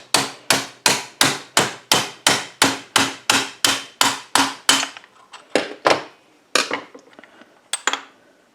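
A Phillips screwdriver is hammered against a stuck wrist pin in a Husqvarna 350 chainsaw piston, a steady run of about fifteen sharp, loud metallic blows, then a few slower, uneven strikes, close and with no talk.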